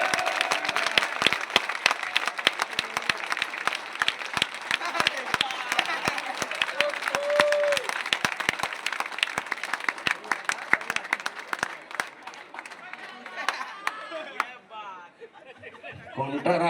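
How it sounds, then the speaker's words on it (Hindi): A rally crowd in Chhattisgarh claps steadily and densely for about twelve seconds while voices chatter underneath, then the applause thins and fades toward the end. "थोड़ा एकर मन पर जोरदार ताली बजा दो"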